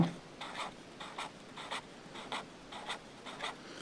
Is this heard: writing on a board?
yes